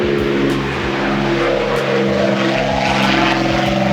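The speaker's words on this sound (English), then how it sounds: "nice plane flying by" A propeller plane passing overhead at Goodwood, a loud continuous engine drone that holds steady throughout, with the pitch of the propeller noise sliding slightly as it moves.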